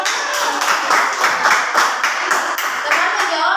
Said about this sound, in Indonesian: tepuk tangan untuk teman yang menjawab